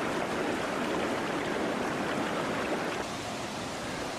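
A six-step river cascade in Lahemaa National Park, Estonia, once a waterfall nearly 4 m high, gives a steady, dense rush of falling water that fills the air evenly, with no voices.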